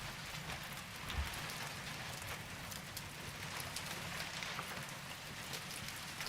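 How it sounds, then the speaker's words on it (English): Rain dribbling through holes in a building in the horror video game Texas Chain Saw Massacre, a steady, dense patter of drops spread evenly throughout, with no talking. "We got rain dribble going through the holes."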